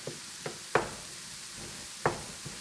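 Ground beef browns in a pan on an electric stove for goulash, with a steady sizzle beneath a few sharp knocks of a utensil against the pan.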